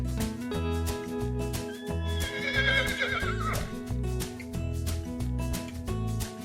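A horse gives a loud, quavering whinny partway through, set over a bouncy, looping backing track that keeps a steady beat from start to finish.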